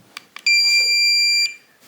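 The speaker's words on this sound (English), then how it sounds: "once you hear that long beep, release it" A Kwikset keypad lock emits one long, steady, high-pitched electronic beep during a factory reset, loud and close for about a second, preceded by a couple of faint clicks.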